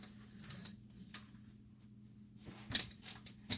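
An old piece of household plumbing pipe is cut with a hand cutting tool, giving a few faint, sharp clicks and crunches, with the loudest snaps coming near the end over a low background hum.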